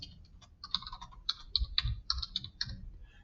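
Rapid, irregular key clicks from typing on a computer keyboard, close and fairly quiet, in a steady burst of keystrokes with no talking over it.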